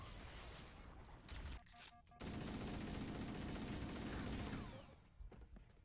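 Rapid automatic gunfire from the video game Halo: Combat Evolved on the Pillar of Autumn level, a dense sustained burst that briefly pauses, resumes loud, then tapers off.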